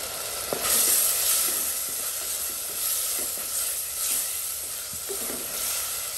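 Chopped onion sizzles steadily in a hot pan for a prawn green roast, a continuous bright hiss with a few soft clicks of stirring and no talking.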